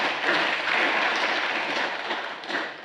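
Members of the Vanuatu Parliament applaud during an extraordinary session, a moderate, steady spatter of clapping from a seated chamber, fairly even and slightly distant.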